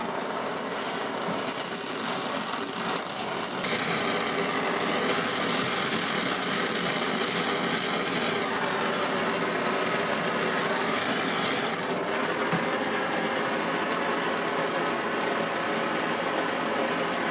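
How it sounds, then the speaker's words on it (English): A torch heats a babbitt bearing cap for a Model T, giving a steady, close roaring hiss that continues unbroken, slightly intensifying after a few seconds, with no talking. "now we get the torch and heat it up"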